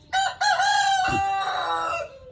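A rooster on a rooftop hobby poultry farm crows loudly and close by, one long drawn-out call with a brief break near the start, alone without talk.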